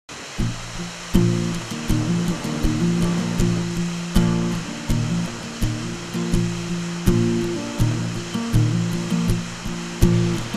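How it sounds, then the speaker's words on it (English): Waterfalls pour into the Escanaba River from both banks, a steady broad rush of falling water heard under a rhythmic music track, with no talking. "you have several waterfalls coming in on both sides of the bank"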